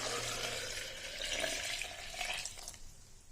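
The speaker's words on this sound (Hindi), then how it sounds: "और अब हम जग में डालेंगे आधा किलो दूध।" Half a kilo of milk pours into a jug for a banana milkshake with dates, a continuous close gushing, splashing flow that holds steady, then thins out and stops near the end, with no voices.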